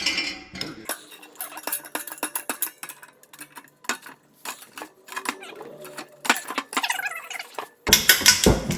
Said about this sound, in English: you hear that wood cracking